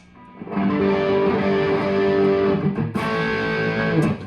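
A loud, sustained overdriven electric guitar chord through an amp's drive channel rings out thick and distorted, then is restruck and held again.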